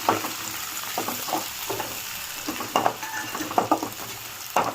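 Onions, green chillies and curry leaves sizzle in hot oil in a pan for tomato rice, a steady frying hiss broken by several scraping stirs, close and alone with no talk.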